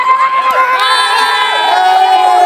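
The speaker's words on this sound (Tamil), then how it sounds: "அங்கே சில பேர் கத்துறாங்க. நாங்கள் கத்துறோம்." A group of people shouting together on a trip through the Kodaikanal hills, a loud, sustained burst of overlapping cheering voices and whoops, close and dense.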